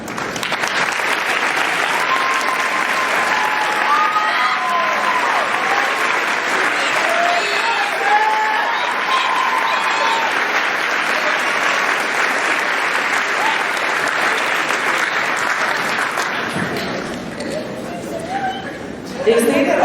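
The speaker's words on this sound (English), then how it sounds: "please stand and receive a well-deserved round of applause" Sustained applause from a large graduation crowd honoring school staff for the class of 2014, a steady roar of many hands with scattered voices and cheers mixed in, tapering off near the end.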